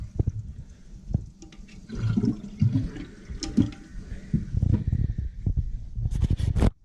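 A toilet flushes and drains with gurgling, splashing water in uneven bursts, heard close by at a modest level.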